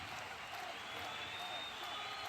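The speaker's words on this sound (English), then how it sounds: "Good-sized crowd here today." Crowd at a 3-on-3 basketball game, a steady wash of murmuring and scattered clapping heard from a distance, with a voice talking over it.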